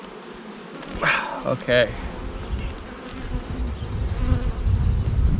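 Honey bees buzzing steadily at an open hive during a Snelgrove board swarm-prevention inspection, a continuous close drone that runs throughout while a person speaks briefly.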